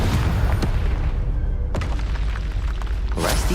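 Confringo blasting-curse explosions in Hogwarts Legacy, heavy booming blasts over a constant low rumble, with sharp cracks at the start, in the middle and near the end, loud and close.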